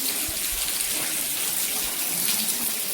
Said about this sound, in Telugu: కొండ మీద నుంచి చూడండి వాటర్ ఎలా కారుతున్నాయో